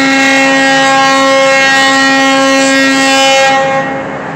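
The Staten Island Ferry's horn sounds as the boat departs, one loud, long, steady blast that holds for about four seconds and then tapers off, with no talking.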